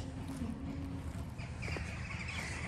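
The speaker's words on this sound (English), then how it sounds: "You hear the, the crows." A few crow calls ring out over a steady background hum, fairly distant and intermittent, at a chapel graveyard in Quothquan, Scotland.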